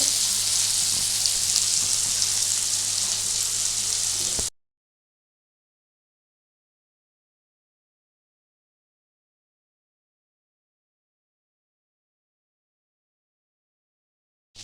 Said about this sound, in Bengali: এইটা মাখন দিয়ে ভাজি